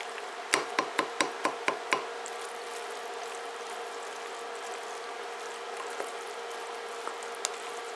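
A spoon clinks against a crock pot while stirring macaroni and cheese: six or seven quick, sharp knocks in a fast row, then only a quiet steady background hum.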